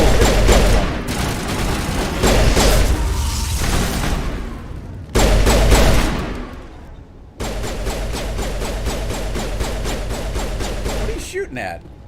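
Dense bursts of rapid gunfire from the Mass Effect Legendary video game, loud and sustained across several volleys with brief breaks, ending with a few sharper shots and a whoosh; voices can be heard.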